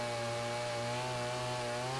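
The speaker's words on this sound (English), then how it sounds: "You can always tell by the chips if you've got a good sharp chain on your chainsaw." A chainsaw with a sharp chain cuts through a wood burl while milling it, giving a steady, close, high-pitched whine that holds without a break and with no voices.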